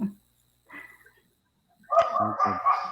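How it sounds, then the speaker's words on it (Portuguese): A dog barks in the background of an online meeting, a few short yelps and whimpers close to a microphone, followed by people talking. "Estou ouvindo o cachorro latindo também?"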